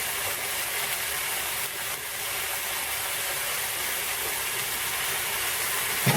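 Vegetable chow mein with spring onions fries hard in a hot pan, giving a loud, steady, unbroken hiss that stays constant throughout.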